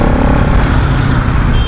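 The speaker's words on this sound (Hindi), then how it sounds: "एकदम रिफाइंड इंजन का जैसा भाई एग्जॉस्ट आता है तो वही मैं अब इस बाइक का मैं सुन पा रहा हूँ चलाते हुए" A Pulsar NS200 BS7 motorcycle engine and exhaust rumble steadily while riding, heard as a loud, dense, continuous drone mixed with heavy wind rush and no pauses.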